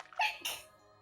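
A second close sneeze during a tabletop role-playing game session: a short breathy lead-in, then an abrupt explosive burst that dies away quickly into near silence.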